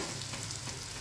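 Chopped onions fry in a pan with homemade black masala spice mix added while cooking spicy matki usal, producing a steady, close, dense sizzle with no pauses and no talk.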